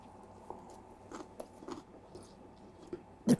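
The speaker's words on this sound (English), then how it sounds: "The crunch of the watermelon and the cucumber is delicious" Someone bites into and chews a crunchy salad of watermelon, cucumber and feta, making a series of quiet, close, irregular crunches with one sharper bite at the end and no talk.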